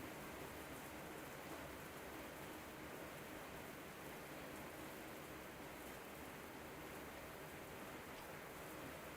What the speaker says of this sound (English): The slow sounds of his gait sets a nice contrast to the rain lashing against the windows.